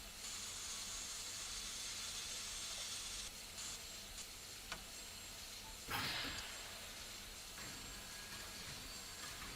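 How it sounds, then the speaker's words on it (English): Air compressor running on a Santa Fe steam locomotive in Train Sim World 2022, a steady broadband hiss that shifts slightly partway through, with a brief louder rush of air near the middle; no talking. "Good, the compressor came on."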